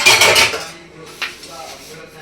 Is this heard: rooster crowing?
no